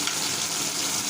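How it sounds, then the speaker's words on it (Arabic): Garlic frying in a pan, a short burst of bright, steady sizzling with a watery hiss as vinegar is poured in to quench it. "لما يبتدي يتحمر كده هطفي عليه بحبة خل"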